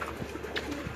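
Well-kept pigeons in a loft in Lahore give a soft, close coo in one short burst, with no voices present.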